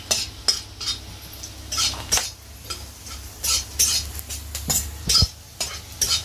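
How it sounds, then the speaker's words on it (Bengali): Crab fat fries in a pan with chopped onion and green chilli, a soft sizzle running beneath frequent sharp clinks and scrapes of a metal spoon stirring against the pan. "কাঁকড়ার তেলটা এর মধ্যে দিয়ে দিয়েছে আর এটা এখন ভালো করে ভেজে নিয়ে"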